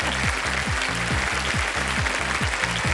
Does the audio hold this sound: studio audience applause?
yes